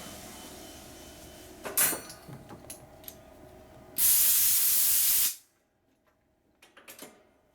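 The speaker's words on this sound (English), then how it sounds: "Spray cleaner." Spray cleaner blasts out in one loud, steady hiss lasting about a second while cleaning out a lathe, with light clicks and shop handling noises before and after.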